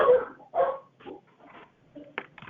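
A dog at a committee meeting gives a few short, fairly close barks and yips in an uneven sequence, with quieter gaps between them and no speech over the sounds.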